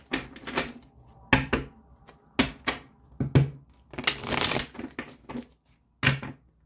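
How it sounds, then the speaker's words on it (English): Tarot cards are shuffled and riffled in quick bursts with soft slaps and a longer rustling flurry, close and fairly quiet, with no talking. "One last shuffle, Capricorn, for January 2022"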